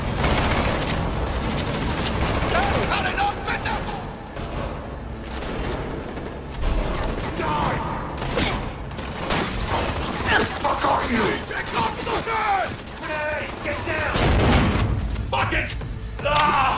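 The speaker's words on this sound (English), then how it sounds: "This allows players to bounce bullets off walls and hit enemies hiding behind cover." Rapid video-game gunfire keeps going throughout, with bullets ricocheting off walls in bursts and thuds, mixed with mechanical clatter and a voice talking over the top.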